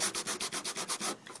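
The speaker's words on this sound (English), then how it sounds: "you can sand as much or as little as you like" Rhythmic back-and-forth scraping of a Tim Holtz sanding block over an embossed paper piece, about nine even strokes in quick succession, close and clear with no voices.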